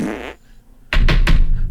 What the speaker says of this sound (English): Do a big fart.